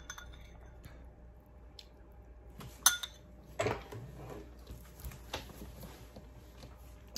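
Dollar Tree bowl and plates handled, with a sharp ceramic clink near three seconds and softer knocks and taps spread across a quiet room.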